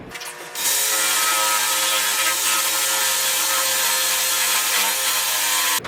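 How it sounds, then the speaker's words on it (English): A power drill starts abruptly and bores into a wooden closet door, running continuously with a loud, grinding whir for several seconds, close by, with no talking. "now I should be able to drill straight in there"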